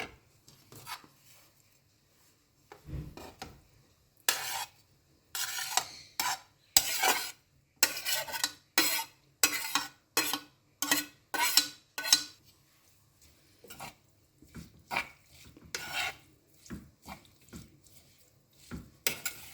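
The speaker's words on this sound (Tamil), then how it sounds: "இதெல்லாம் ஒன்றாவது மிக்ஸ் பண்ணிக்கணும். மீனை போட்டுக்கலாம்." Ingredients for a Sri Lankan style fish salad are mixed together in a bowl, giving a long run of rhythmic scraping and clattering strokes, close and fairly quiet, with short pauses between bursts.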